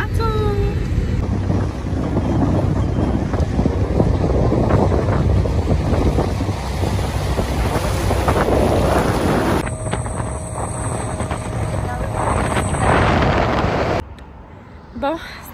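A motorboat ride on open water, with a constant roar of wind buffeting the microphone over engine and water rush, loud throughout before abruptly dropping away at the end.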